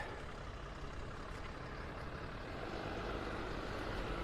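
Traffic streams past on Gulf Shore Drive in North Naples, Florida: a continuous broadband roar of vehicles, including a heavy truck, swelling slightly as they go by nearby, with no speech.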